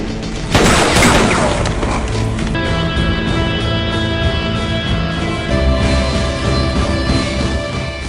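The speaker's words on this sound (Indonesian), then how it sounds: "Aksi saling tembak pun tak terhindarkan antara mereka berdua" Gunfire rings out in a basement shootout in the 2010 film Faster, starting with a loud burst of shots and continuing as a dense exchange over a sustained musical score, with no voices.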